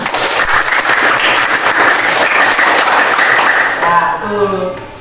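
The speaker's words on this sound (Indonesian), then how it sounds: "Tepuk tangan dulu." High school classroom applause as students clap together, a loud, dense burst of hands that holds for about four seconds and then fades out as a voice begins to speak.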